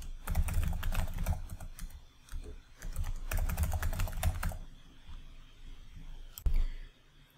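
Someone types on a computer keyboard in quick, soft bursts of clicking, two long runs of keystrokes separated by a pause, then a single louder tap near the end, quiet and close.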